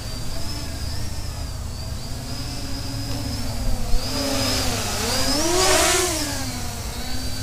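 Electric motors of a HiSky HMX 280 drone whine steadily in flight, then surge in pitch on a sharp throttle punch before easing back, heard nearby with no talking.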